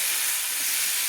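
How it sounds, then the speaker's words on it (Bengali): Mati aloo (yam) sautéing in a spice masala, giving a steady, close, fairly loud broadband hiss and sizzle that holds evenly throughout, with no voices. "মশলার সঙ্গে আমি কষিয়ে নিচ্ছি মেটে আলুগুলো"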